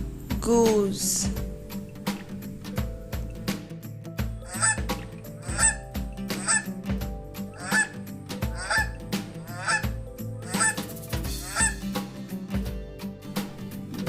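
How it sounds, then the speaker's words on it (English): A farm goose gives a string of loud, nasal honks in an irregular rhythm, close by, with some background noise between calls. "Goose."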